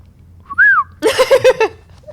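A person whistles a short rising-falling note, then a quick series of five or six clear whistled pips, close and fairly loud, with no talking.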